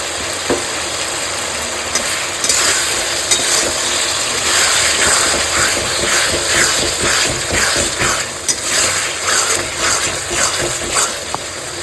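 Fried potatoes are stirred into a pan of katla fish curry masala with turmeric and red chilli. A continuous close sizzle carries rhythmic scraping and stirring strokes throughout, with no voices.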